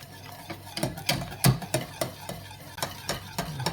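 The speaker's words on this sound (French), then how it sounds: "On va intégrer d'abord une première moitié de lait. On remue vite pour éviter les grumeaux." A whisk beats milk into a sauce in a pan, making quick, repeated scraping strokes against the metal in an uneven rhythm, close and clear with no talking.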